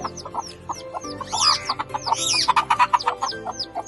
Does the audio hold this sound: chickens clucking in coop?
yes